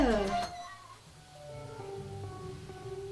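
A cat meows in a music video, a bright descending meow at the start followed by softer tonal musical sounds and a faint voice underneath.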